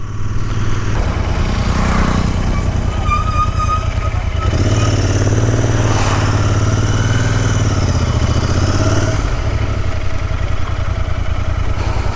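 A motorcycle ridden along a road in Himachal Pradesh, its engine droning loud and close throughout with slight rises and falls in pitch, and no talking over it.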